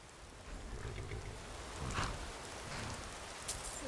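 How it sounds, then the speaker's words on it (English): Steady rain hisses evenly in the video game The Shadow of Meresis, a dense wash of drops with a brief rumble midway, fairly quiet and with no talk. "This rain will stop eventually."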